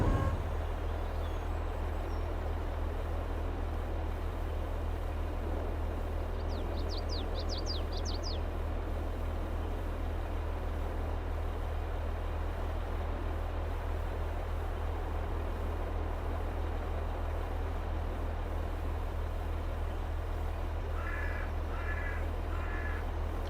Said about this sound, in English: I'd be shooting that damn bird if it was that noisy.